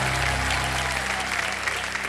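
Dense, continuous applause from a studio audience on the Indian quiz show Kaun Banega Crorepati fills the room, loud and even throughout the short stretch.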